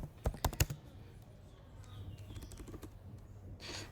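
HTML code is typed on a computer keyboard. A quick burst of a few sharp, close keystrokes comes first, followed by softer, sparser taps over faint room noise.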